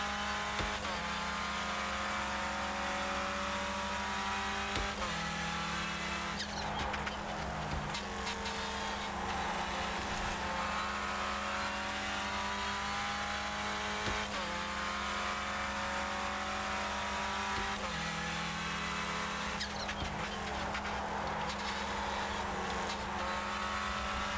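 Hyprix Clio Cup race car from iRacing on a hot lap, engine droning steadily and loudly throughout with rising and falling revs through gear changes and corners, no talking.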